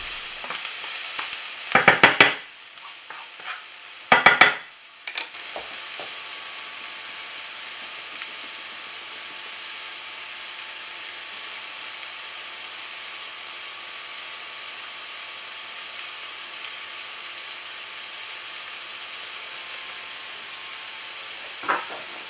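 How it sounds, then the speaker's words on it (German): Onions frying in a pan as powdered sugar caramelizes beside them, giving a steady hiss and sizzle, with a few sharp stirring scrapes near the start, then continuous crackle without talk. "Nach einer kurzen Zeit des Zwiebelanbratens geben wir Puderzucker in die Pfanne."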